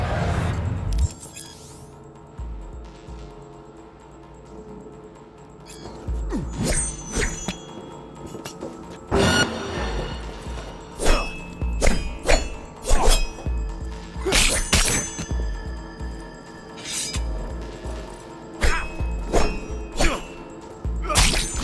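Sword melee swings and impacts in Cyberpunk 2077, a run of sharp whooshes and metallic thwacks that come in quick bursts and scattered single hits, loud and close, with no talking.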